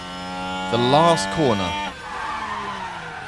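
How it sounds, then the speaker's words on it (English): A Formula 1 car in the F1 Manager video game skids through the last corner at the Abu Dhabi Grand Prix, with a sharp rising tire squeal that fades into a lower engine hum. "How is he crashing on the form? Like, the last corner."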